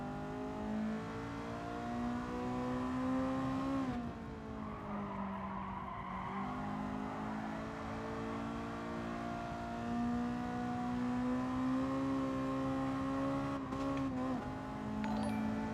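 Race car engines in GT Sport, a loud sustained drone with shifting pitch as the engines rev and ease through gear changes, continuous for the whole stretch.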